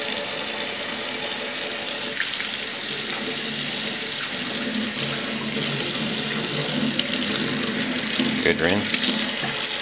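Tap water runs steadily into a sink while a clearomizer is rinsed, a constant close rushing hiss for the whole stretch, with one brief spoken word and small splashy shifts near the end.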